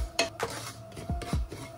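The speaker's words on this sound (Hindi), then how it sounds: "इसके अंदर हम डालेंगे हमारा पिसी हुई मूंग दाल, इसको बहुत अच्छे से हम कुक करेंगे" Ground moong dal being cooked and stirred in a pan, with several short scraping and rubbing strokes of a spoon against the metal, close and moderately loud, with no talking.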